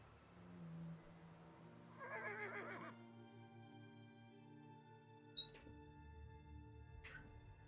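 A horse whinnies in the Elder Scrolls Online fantasy role-playing game, one drawn-out neigh rising over a low, steady ambient game soundscape, with a couple of short sharp clicks following later.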